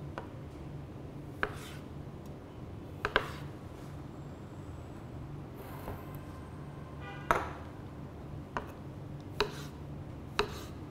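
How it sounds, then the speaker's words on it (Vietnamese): A knife dices a peach into small cubes on a cutting board: sparse, sharp taps at irregular intervals, fairly faint against a steady low background hiss, with no talk. "Đào miếng. Cắt thành hình miếng hạt lựu."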